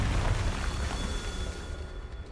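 A Confringo spell explosion in a Harry Potter video game, one short loud rumbling blast with a deep low burst that fades over a couple of seconds.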